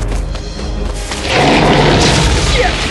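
A bomb thrown behind a giant worm explodes in the film Tremors, a loud sustained boom and rumble that swells midway and stays heavy to the end, with no talk.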